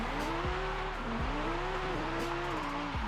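A Lamborghini Huracán drifting in the Forza Horizon racing game gives repeated wavering tire squeals over a steady engine drone, with pitch sliding up and down as the car slides, loud and continuous.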